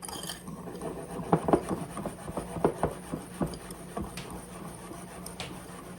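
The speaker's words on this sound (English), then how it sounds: "I'm going to really give that a good whisking around and incorporate it well" A whisk scrapes and clicks against a bowl while sugar and pectin are mixed together, an irregular series of light rubbing strokes close by, with no voices.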